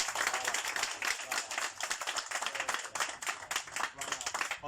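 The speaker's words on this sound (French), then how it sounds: "On peut l'applaudir." An audience claps steadily through a gathering held to honour Ivory Coast's national broadcaster RTI, with dense, continuous applause filling the room at a lively, even level.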